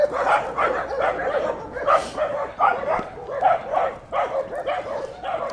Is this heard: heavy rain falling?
no